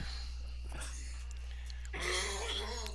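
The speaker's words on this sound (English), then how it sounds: "Excuse the coughing." A person coughs and clears their throat while sick. The sounds are faint and rough, with a few brief bursts that get louder near the end over a steady hum.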